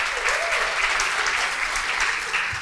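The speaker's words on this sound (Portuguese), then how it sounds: "Aplaudam a Keila, por favor" An audience in a church gathering claps steadily, a dense, even wash of applause that stays loud and close throughout.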